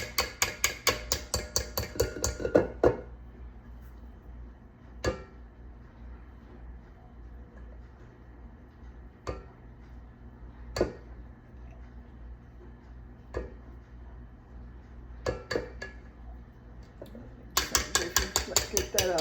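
Stiff cookie batter for cream cheese cake mix cookies is scraped with a spoon, a run of sharp metallic clinks and knocks against a bowl at the start and end, with a few isolated taps in between.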